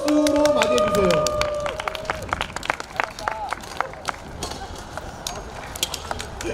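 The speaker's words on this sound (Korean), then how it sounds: "큰 박수로 맞이해주세요." Scattered clapping from a crowd at a university busking show, sharp claps spread unevenly over several seconds, with voices and murmur running underneath.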